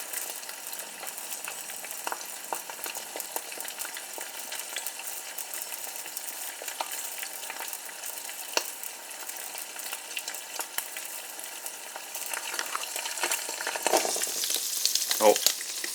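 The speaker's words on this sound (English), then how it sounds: "And we let the eggs cook for a little longer." Eggs frying in butter in a pan give a close, continuous crackling sizzle at an even level, growing busier and slightly louder near the end, with no talking.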